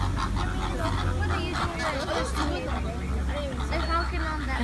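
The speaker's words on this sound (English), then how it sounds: "On the left, those are greater flamingos." A flock of greater flamingos honks repeatedly at a zoo or park, the goose-like calls overlapping and mid-distance, mixed with a steady low rumble and crowd chatter.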